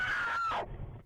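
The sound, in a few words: woman screaming in panic, dash cam footage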